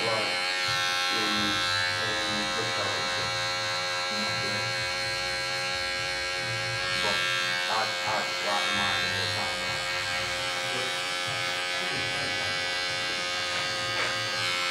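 Electric hair clippers fitted with a closed 0.5 guard cut hair during a skin fade at a barbershop, a continuous close buzzing hum that lasts the whole time with small shifts as the blade moves.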